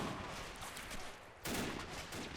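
Continuous heavy battle noise in a war video game, dense gunfire and rumbling with a sudden louder blast bursting in midway and sustained crackling afterward.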